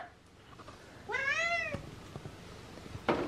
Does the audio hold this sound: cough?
no